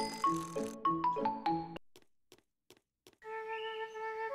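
A bicycle bell in a Peppa Pig video game rings bright chiming tones in a quick melodic run, followed by a few soft clicks and then a sustained electronic tone.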